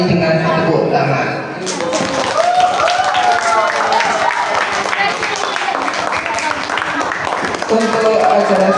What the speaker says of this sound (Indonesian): Mari kita berikan apresiasi dengan tepuk tangan